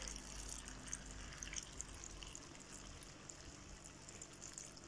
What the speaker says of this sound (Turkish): Üzerine suyunu vereceğim arkadaşlar. Bildiğimiz çeşme suyu vereceğiz.